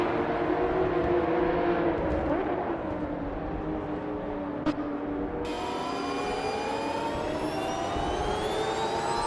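Racing car engines, including a GT1-class 1996 Mitsubishi GT, whine through a video game race at Termisterio Hondo, with rising and falling engine tones and a brief sharp click midway, no talking.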